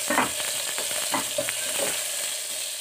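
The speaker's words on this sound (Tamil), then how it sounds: "ஆட் பண்ணி நல்லா வந்து எண்ணெயிலே வதங்கட்டும்." Ginger and garlic fry in hot oil in a pan, giving a steady close sizzle with brief stirring scrapes and taps throughout, and no talking.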